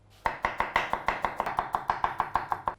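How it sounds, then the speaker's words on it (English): Three garlic cloves being finely sliced with a knife on a board: about a dozen quick, evenly spaced crisp chops, close and loud, with no voices. "I'm going to slice these finely."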